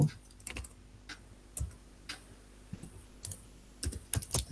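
Typing code on a computer keyboard: irregular bursts of crisp key clicks, some spaced apart and others in quick clusters, close and fairly clear over a quiet background.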